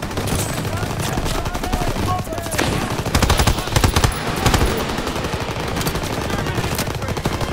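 Rapid machine-gun bursts and overlapping gunshots fill a battle in Call of Duty WWII, loud and continuous, with dense rattling fire throughout.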